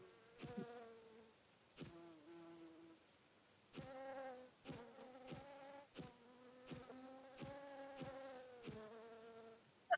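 Bees buzz close by in repeated droning bursts of a second or so, swelling and breaking off, with brief knocks between them and no talk.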